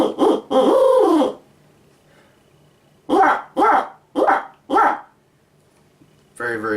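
A hand-blown owl hunting call, made for turkey hunting, imitates an owl's laugh. First comes a long wavering hoot, then four quick, loud, punchy hoots in a row, close up with quiet gaps between.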